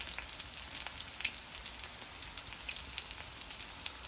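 Mutton gola kababs fry slowly in oil over a low flame, giving a steady, soft sizzle with scattered tiny pops and crackles throughout, moderately quiet and continuous with no voices.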